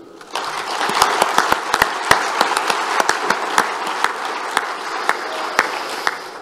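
Applause at a forum closing ceremony, starting abruptly and building into a steady patter of clapping with distinct sharp individual claps standing out over the wash.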